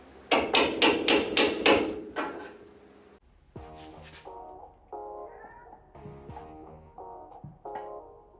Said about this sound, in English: get to use a hammer